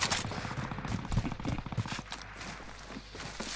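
Rapid bursts of gunfire from a multiplayer video game on a new map, crackling shots in quick succession over the first two seconds, then thinning into quieter background action.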